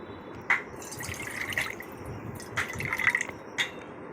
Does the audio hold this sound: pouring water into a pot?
yes